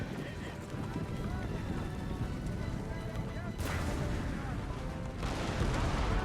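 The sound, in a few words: musket gunfire in video game Napoleon: Total War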